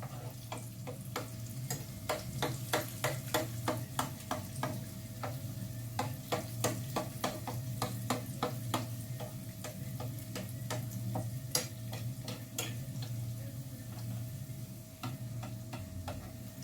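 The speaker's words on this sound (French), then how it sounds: "quand il commence à dorer en bas, n'hésitez pas à mettre de l'huile dessus pour qu'il gonfle encore." Doughnut-style beignets fry in hot oil with a soft continuous sizzle, broken by a string of sharp, crisp pops and ticks scattered irregularly throughout.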